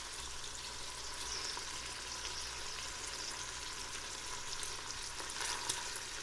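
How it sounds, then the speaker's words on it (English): Bacon frying in a pan for pork stew, a soft, continuous crackling sizzle with tiny pops, close but quiet and steady throughout. "I think I can make a whole video of just sizzling bacon."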